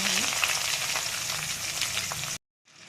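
Finely chopped onions hit hot oil with urad dal, chana dal and curry leaves for a drumstick-leaf palya, giving a steady close sizzle that cuts off abruptly near the end before faintly resuming.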